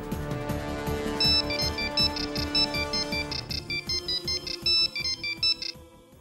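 An outgoing telephone call rings with a repeating electronic tone, a clear pulsing pattern in steady bursts, heard alone without talk.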